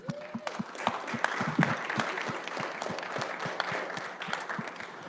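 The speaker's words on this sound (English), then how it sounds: "so let's get a round of applause" An audience at a 2019 ASUA Senate candidate Q&A applauds as the event opens, a steady patter of many hands clapping at moderate distance, with a brief voice at the very start.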